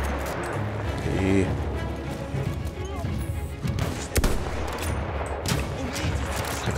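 Gunfire in the Battlefield 1 campaign, a dense run of battle shots and blasts near and far that fills the scene, with a voice talking over the fighting.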